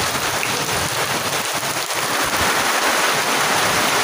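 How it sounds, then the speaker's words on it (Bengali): Rainwater streams down steadily at a veranda during a downpour, a dense, close, unbroken splashing hiss with no voices. "এখানে পানি পড়তেছে, বৃষ্টির পানি"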